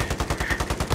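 Rapid automatic gunfire in a Call of Duty: Modern Warfare firefight: a steady, fast burst of evenly spaced shots, loud and close, with no talking over it.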